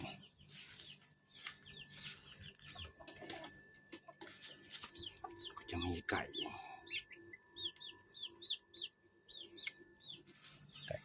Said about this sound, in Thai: ข้างล่างก็จะเป็นเล้าไก่นะครับข้างล่าง